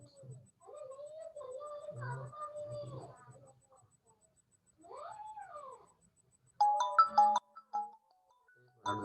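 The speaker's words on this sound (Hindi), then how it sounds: "देखो एक फोन आने लग गया मेरे पास" A phone ringtone for an incoming call plays as a short melodic tune, rising and falling in a few separate bursts with quiet gaps, then ends in a brief, sharper electronic chirp.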